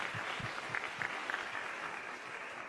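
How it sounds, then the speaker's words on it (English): Audience applause at a CPAC human-trafficking summit, a steady moderately distant wash of many hands clapping, with a few brief sharper claps standing out. "So that's a round of applause for Hannah and the team"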